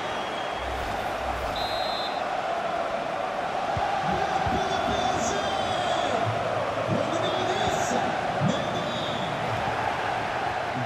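A stadium crowd in a FIFA 23 football match with PSG roars continuously and fairly loudly, while a commentator talks over it.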